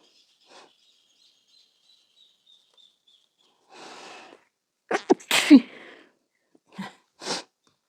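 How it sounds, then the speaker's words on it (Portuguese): Several sneezes from a person during a crochet tutorial, following a faint high whine; a quick run of sharp bursts in the middle with smaller ones after, fairly close and moderately loud with no talk. "Me desculpem, mas me deu uma crise de espirro agora."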